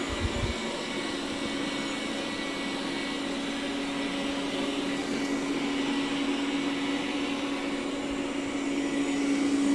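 A Roborock Q7 Max Plus robot vacuum runs with a steady, fairly loud whir and a constant hum throughout, close by, with no talking.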